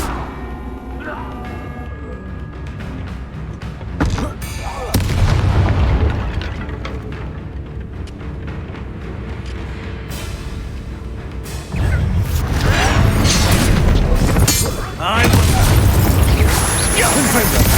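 Bombarda and Confringo blasting spells exploding in Hogwarts Legacy combat: repeated heavy booms with long rumbling tails, loud and close, in two big bursts over ongoing battle noise and talk.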